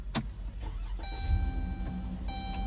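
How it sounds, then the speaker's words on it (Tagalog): A car being switched on in a snowy setting before cleaning, with a low engine rumble and a mechanical clunk, then a steady electronic chime tone repeating twice, alone without talk. "I-on muna natin ang ating car."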